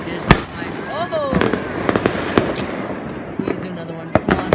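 Fourth of July fireworks go off at a distance as a scatter of sharp pops and crackling bursts, some louder thumps among fainter ones, while people talk over them outdoors.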